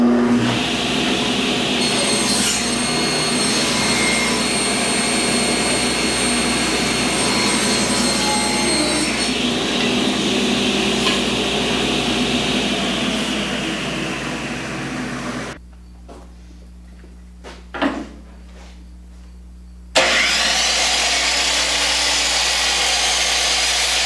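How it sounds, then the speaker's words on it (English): A table saw or radial arm saw runs loud and steady through wood, a constant roaring whine with a brief drop and a short burst near the end before the motor comes back up. "The table saw or radial arm saw may be used to accurately cut your pieces."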